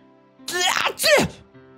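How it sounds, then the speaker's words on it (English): Two sharp sneezes in quick succession, close and fairly loud, with a brief gasp between them. "Sensei was sneezing every moment he could gasp for breath"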